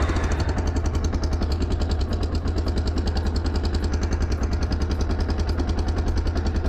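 A motorcycle engine idles loud and close with a fast, even, throbbing rhythm that holds steady throughout, with no voices over it.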